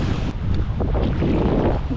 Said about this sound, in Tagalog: At ang hangin.